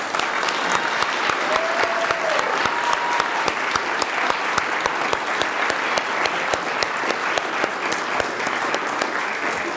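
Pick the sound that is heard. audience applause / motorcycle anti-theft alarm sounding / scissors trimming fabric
audience applause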